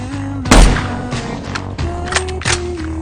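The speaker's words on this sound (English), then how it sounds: "2 shots ring out, threats eliminated" Two sharp sniper rifle shots in a video game crack out loud and close, spaced well apart over a low rumbling backdrop, with a few smaller mechanical clicks and thumps in between.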